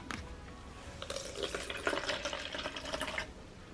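Jasmine green tea poured into a cup holding boba pearls from a DIY boba kit, a soft, close trickle that runs for a few seconds before stopping.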